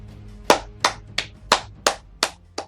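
Seven sharp claps from the clapping emote in the Clash Royale mobile game, evenly spaced about every third of a second, crisp and close with a low music bed underneath.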